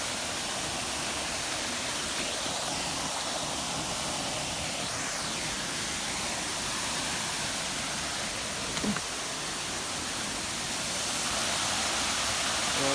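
Steady, full roar of a waterfall at Tong Long, constant broadband rushing water heard close and loud throughout with no voices.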